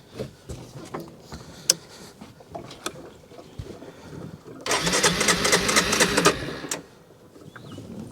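A Polaris Sportsman 300 ATV engine cranks and catches for a loud burst of about a second and a half, then cuts out, with quieter clanks and handling noise before and after.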